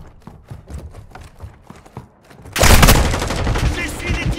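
Call of Duty gunfire, with scattered sharp shots and clatter giving way to a dense, loud burst of sustained automatic fire that fills the last two seconds.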